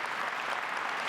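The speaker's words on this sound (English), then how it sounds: "please join me in a warm round of applause for our fantastic panel there" Steady applause from a crowd at a panel event, dense and continuous clapping throughout the short moment.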